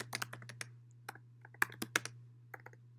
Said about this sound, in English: just because I'm typing